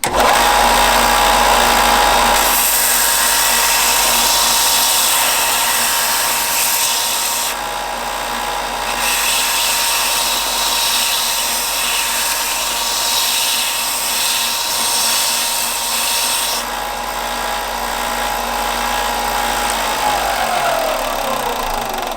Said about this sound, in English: You want it to cool down as soon as you get it off the grinder so that you don't damage that edge.